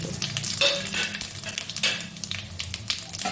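Whole spices sizzling in hot oil: dried red chili, bay leaf, cumin, cinnamon, cardamom, cloves and black pepper, a loud steady crackling fry with sharp spitting pops and a faint scrape of stirring.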